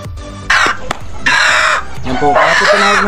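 A chicken being prepared for Igorot pinikpikan squawks loudly and up close in three harsh, frantic bursts, with brief thumps and rustling between the cries.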